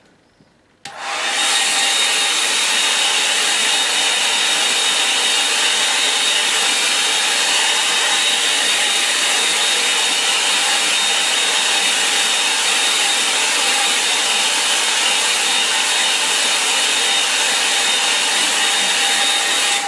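A hair dryer switches on and runs steadily, drying a watercolour wooded landscape painting, a loud, constant close-up whirring blow with no talk.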